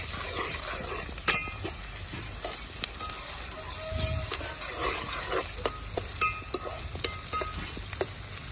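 Drumstick (mulakaya) pieces sizzle and crackle in a hot pan as ginger paste goes in, a steady frying hiss broken by a sharp clink of a spoon and scattered popping.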